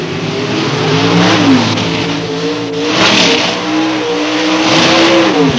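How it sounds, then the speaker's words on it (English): A drag racing car with a 543-cubic-inch engine does a burnout on the strip at London Motorsports Park, its engine roaring loudly and continuously with rising revs and a harsh, sustained blare. "Bob Schilling, what a burnout here on the Tower side."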